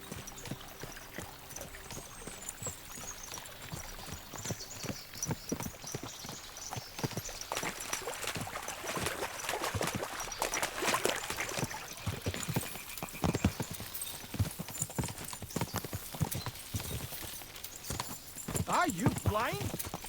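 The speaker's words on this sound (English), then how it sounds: "As soon as we cross the stream, we'll give the horses a gallop again." Horses galloping in the video game Kingdom Come Deliverance 2, with steady rhythmic hoofbeats and clip-clop under continuous talking, plus some watery background noise as they cross a stream.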